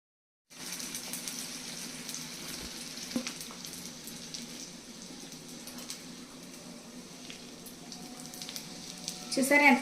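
Wheat flour puri with a little upma rava frying in about half a litre of hot oil, a steady close sizzle and bubbling that starts abruptly and swells louder near the end.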